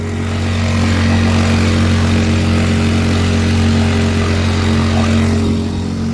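Bass boat outboard engine running steadily while cruising slowly through a shady no-wake zone, a loud, constant low drone with no voices.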